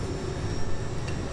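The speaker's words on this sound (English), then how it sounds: "Landing on a private jet for the first time." Private jet cabin during landing, a steady engine roar and airflow hum, continuous and moderately loud with no voices.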